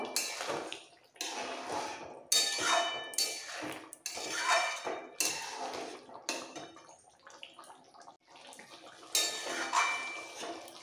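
Fried prawns are stirred and mixed through potol and potatoes in a cooking pan, giving repeated bursts of scraping, clattering utensil-on-pan sounds with wet sizzling, broken by short pauses.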